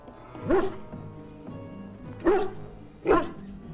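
A hound barks in the Dragon Age video game: three sharp, fairly loud woofs, one near the start, then two close together later, over a quiet background hum with no talking.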